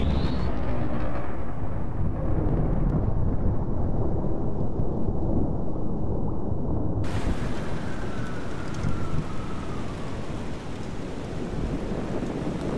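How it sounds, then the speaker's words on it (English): Deep rumbling thunder and roaring wind inside a thunderstorm in the flying game Exo One, a loud continuous wash that drops briefly in the middle and then surges back. "Try and fly up into this thunderstorm here."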